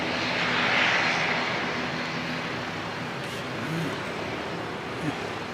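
A light Aero Club aircraft coming in at the airport during a nor'wester, its engine a steady hum and drone passing at moderate distance, peaking early and then easing off.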